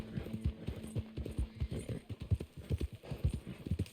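Horse hooves clip-clop in a rapid, steady rhythm in the video game Red Dead Redemption 2, close and distinct, with a brief low tone early on and no speech.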